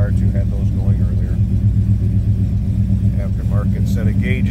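A mid-1970s 454 V8 engine in a 1970 Chevrolet Chevelle idling with a deep, steady rumbling throb, loud and close, while someone talks over it.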